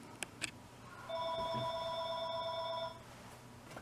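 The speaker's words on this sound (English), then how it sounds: "Phone call." Telephone bell ringing once in a steady two-second burst of bright electronic tones, clear and fairly close, in a quiet room where a model car is being built, with a couple of small knocks before it.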